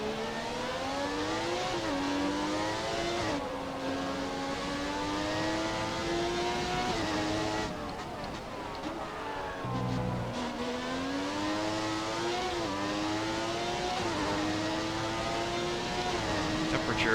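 Engine of a McLaren MP4/6 Formula 1 car in a racing video game set at Interlagos, a steady high-pitched whine with rising and falling revs through gear changes, continuous and close throughout.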